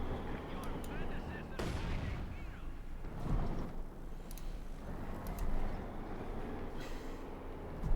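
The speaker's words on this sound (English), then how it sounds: "Sending the artillery called in here again." Artillery fire in Company of Heroes 2, a real-time strategy game: heavy booming explosions land repeatedly amid rumbling battle noise, with a commentator's voice talking over the action.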